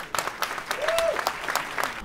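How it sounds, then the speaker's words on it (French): An audience at a far-right political conference applauds Hungarian Prime Minister Viktor Orbán, with scattered, fairly close claps in uneven bursts and a brief whistling tone partway through. "On ressent une admiration du public qui applaudit à chaque mot qu'il dit."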